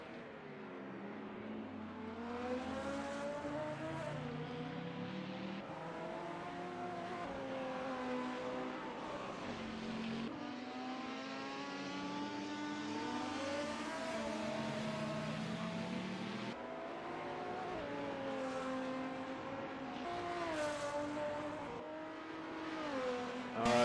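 A BMW and a VL Commodore race car in a racing video game, ATCC round at Townsville: engines scream and rev continuously, pitch rising and dropping through gear changes as the cars battle close together, with no talk.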